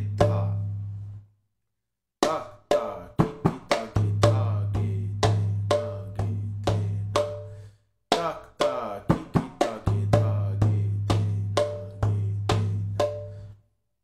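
Mridanga drum strokes play a quick rhythmic phrase with an added ge bass stroke, sharp slaps over a sustained low resonant tone, heard twice with a short pause between phrases, close and clear with no talking.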